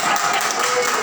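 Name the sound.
applause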